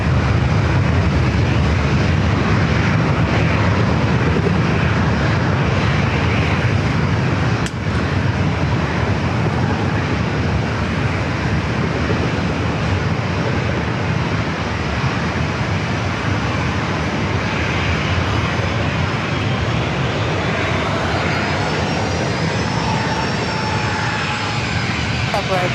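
A Southwest airliner takes off at San Diego airport with a loud, continuous engine roar that holds steady throughout, while a voice speaks faintly underneath.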